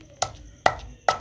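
Onion pounded for a tomato chutney, three sharp, evenly spaced thuds about half a second apart, close and distinct with no talk.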